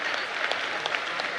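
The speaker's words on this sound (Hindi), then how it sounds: "बहुत अच्छा, बहुत अच्छा, ताली बजाओ इनके लिए।" A large audience at a Bageshwar Dham Sarkar religious gathering applauds. The dense, even clapping is brief and steady and fills the whole moment, with no break.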